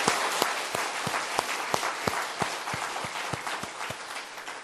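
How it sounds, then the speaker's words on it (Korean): A church congregation at a New Year's Eve service claps in thanks after praise singing, broad applause with sharp individual claps standing out, loud and continuous in a reverberant hall. "하나님 앞에 다시 한번 찬양에 대한 감사의 박수를 하나님 앞에 올려드리겠습니다"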